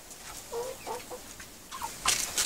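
Laying hens and a young rooster give several short, soft clucks close by, spaced irregularly, followed by a louder burst of calling near the end.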